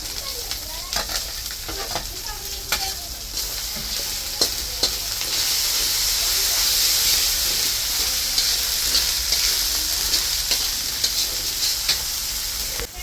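Ground coriander and cumin paste sizzles loudly in a pan of hot oil, a dense, steady hiss under scattered stirring clicks, close and continuous throughout.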